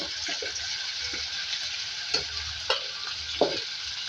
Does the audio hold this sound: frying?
yes